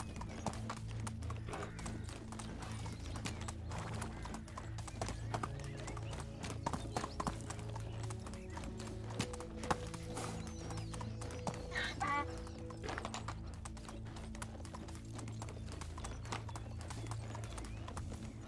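Horse hooves clip-clop steadily while riding in the medieval video game Medieval Dynasty, a continuous rhythmic trot with occasional louder hoof strikes under a low ambient hum.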